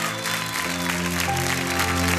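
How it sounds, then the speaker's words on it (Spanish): Studio audience applauding an eliminated dancer on a televised dance competition, steady broadband clapping with music tones running underneath throughout. "Queremos darle un aplauso gigante a Paulina López"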